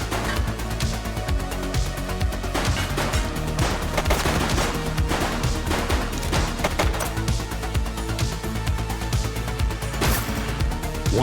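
Repeated gunfire rattles through a police shootout in the video game The Precinct: dense bursts of rapid shots and scattered single cracks, loud and continuous, with no talking over it.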